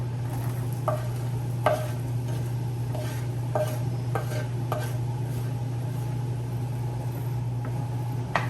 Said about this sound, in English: I'm just gonna saute my onion until it becomes translucent.